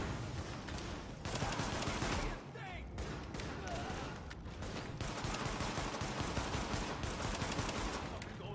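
Sidearm pistol fired again and again in The Division during a raid on Madison Square Garden, dense rapid shots running almost nonstop through the clip amid a busy firefight, with some talk mixed in.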